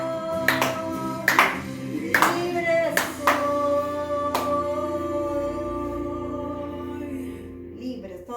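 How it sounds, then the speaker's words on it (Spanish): Church congregation clapping in a few sharp, scattered bursts over lingering music and voices, the claps irregular and fading toward the end. "Aplausos para el Señor, amigos, aplausos."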